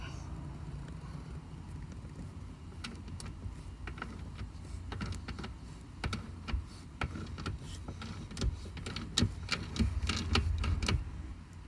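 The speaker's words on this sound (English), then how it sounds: "Get your wrench and start loosening the bolt." A wrench loosens a second-row seat bolt on a 2005–2010 Jeep Commander, giving a run of faint, irregular metallic clicks and ticks that grow denser and louder toward the end over low background noise.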